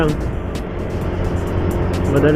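Manual motorcycle with clutch climbing an uphill, curving road in third gear, a steady close engine and road rumble running continuously under a rider talking.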